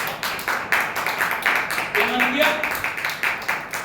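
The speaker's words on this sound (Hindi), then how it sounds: "ताली बजा के प्रभु के नाम की तारीफ करें" A church congregation claps hands in steady rhythmic praise during a sermon, with regular sharp beats continuing under a voice speaking over them.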